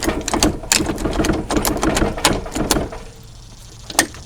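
Winding a homemade wooden pole pump jack gives a run of quick, irregular mechanical clicks and ratcheting knocks for about three seconds, close by, then stops with one last click after a short pause.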